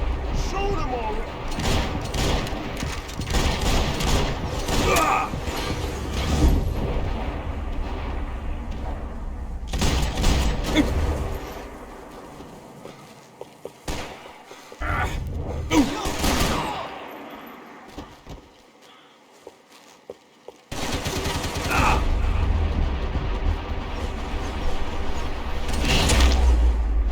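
Gunfire in the video game Max Payne 3, with bursts of shots and heavy booms separated by quieter stretches, mixed with mechanical clatter and game sounds.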